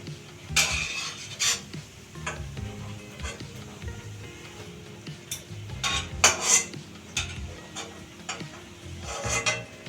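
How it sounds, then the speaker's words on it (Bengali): Fried palm chushi pitha stirred in warm syrup in a pan, with irregular metallic clinks and scrapes of a utensil against the pan over a soft bubbling background. "শিরাটা হালকা গরম আছে এখন নাড়িয়ে চাড়িয়ে দিচ্ছি"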